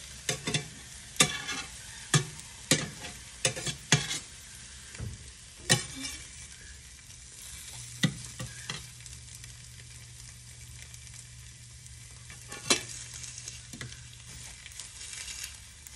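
Food sizzles steadily in a hot frying pan while a utensil stirs and scrapes it in a series of sharp, close clanks, with a few louder scrapes near the end.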